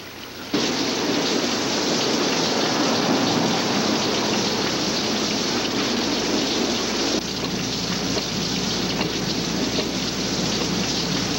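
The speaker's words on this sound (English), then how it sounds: "You nervous about a little rain?" Heavy rain pours down steadily outside on a wet night in the country, a dense, constant hiss that starts abruptly and holds at an even, loud level throughout with no voices.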